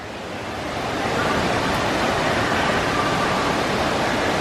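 Waterfalls in the Pandora area of Disney's Animal Kingdom pour with a steady broadband rush that swells in over the first second, then holds at a constant moderate level with no talking.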